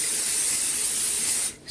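Cooking spray hissed onto a pan in one short, close, steady burst that cuts off abruptly, with a faint puff at the end.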